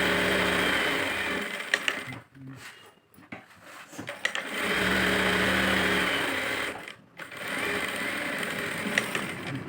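A sewing machine runs in close, steady bursts while stitching the sleeve of a lined blouse, with short pauses between the runs.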